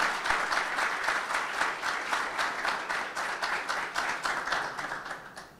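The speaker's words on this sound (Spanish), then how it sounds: "quiero pedir un aplauso" A room of people applauds together, steady rhythmic clapping that holds for several seconds and then begins to fade.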